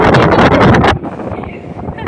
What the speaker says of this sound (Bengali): ওরে বাতাস, ওরে বাতাস বাতাস মারি উড়াই ফেলতেছে।